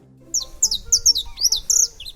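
Saffron finch (canário-da-terra) song in an urban setting: a run of bright, sharp chirps and short trills repeated in quick bursts, close and clear over low background noise.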